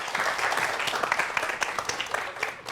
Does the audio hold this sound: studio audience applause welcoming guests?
yes